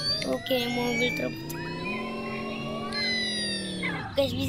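Truck engine in the Dude Theft Wars video game, a steady droning hum with shifting pitch and a few tonal rises, heard close under continuous game sounds and talk.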